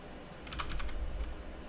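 Keys clatter in a short burst of typing on a computer keyboard while building a C# WPF interface, a quick run of close, crisp clicks with no talk.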